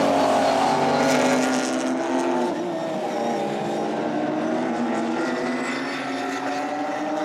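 GT4 race cars at the Nürburgring run side by side through turn 1, a loud continuous engine roar sweeping past with shifting pitch and no talk.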